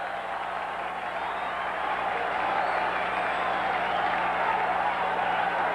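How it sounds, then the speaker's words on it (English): Baseball fans at a Chicago White Sox at Cleveland Indians game cheer and clap on a two-strike count, a steady, broad crowd roar that swells slightly and holds throughout without clear talk. "Fans getting a little cheering going with that 2-strike count."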